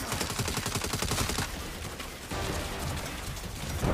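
Rapid turret gunfire in a video game, a fast stream of loud sharp shots in the first second and a half, then a denser rumbling barrage that swells toward the end.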